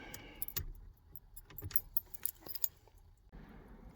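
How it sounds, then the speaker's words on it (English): Small key set for a 1937 Triumph Dolomite 14/60 saloon jangling in a series of close metallic clinks and rattles, with faint car ambience and no talk. "We've got little keys here. Put this in."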